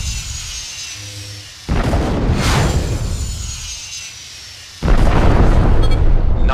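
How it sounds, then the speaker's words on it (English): Two heavy missile blasts from a space-combat game strike a drone, each a sudden loud broadband boom that sustains its roar, the second louder than the first. "Destroy Drone 2 using your Rockeye missiles."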